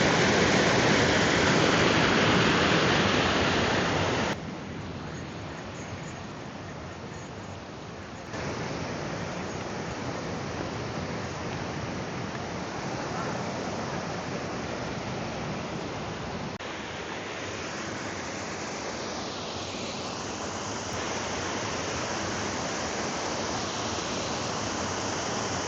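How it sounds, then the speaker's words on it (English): A waterfall in a slot canyon at Glacier National Park pours in a constant broad roar, close and strong, dipping slightly in level partway through as the position shifts, with no talking. "But every short little bit there's another waterfall."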